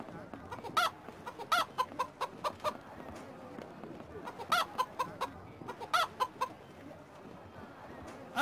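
Chicken in The Road to El Dorado video game clucking in quick repeated bursts of sharp calls, several clusters spread across the clip over a soft background.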